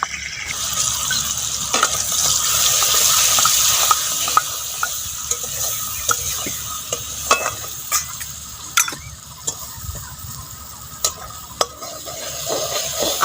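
Spice paste of cumin powder and turmeric fries and sizzles in a pan with a steady hiss, while a spoon scrapes and taps the pan in irregular strokes, close and without talk.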